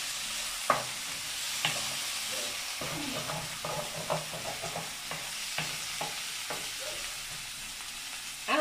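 Onion stirred and frying in a pan for bacalao, a steady soft sizzle with scattered scraping taps of a utensil against the pan, fairly quiet.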